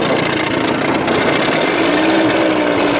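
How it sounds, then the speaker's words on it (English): A rough-running Evinrude 30 hp outboard motor on a boat, loud and close, droning steadily with a harsh uneven buzz while the hull rattles, no talking. "the whole boat is rattling."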